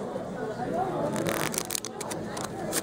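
Quick riffling and snapping of cards being shuffled, a fast papery flutter with sharp crisp bursts near the end, close by.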